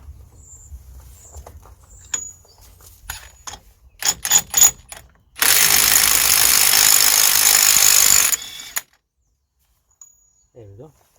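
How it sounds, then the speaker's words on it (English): A wheel hub nut being removed from a Ford Transit during CV joint replacement: scattered metallic clicks and knocks, then a loud, sustained rattling burst of a power tool for about three seconds before it stops. "That's the nut being removed from the hub."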